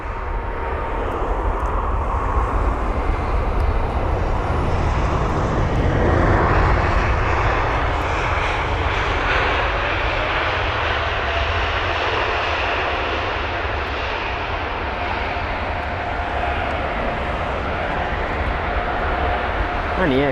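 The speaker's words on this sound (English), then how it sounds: "We have Lufthansa and their A320neo up next." A Lufthansa Airbus A320neo, registration D-AINR, arriving from Munich on approach to London Heathrow, makes a loud, steady jet roar that holds broad and even for the whole stretch.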